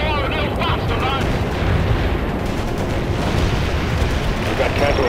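Napalm strikes and explosions from the video game World in Conflict: a continuous heavy roar of fire and rumbling blasts, loud and close, with a few sharper pops and radio voices talking over the din.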